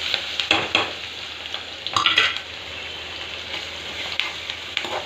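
Chopped green chillies, curry leaves and onion frying in oil for avarekalu upma, a close steady sizzle broken by several sharp scrapes of a spoon stirring the pan, no voices.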